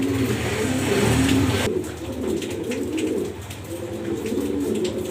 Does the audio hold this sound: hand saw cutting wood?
no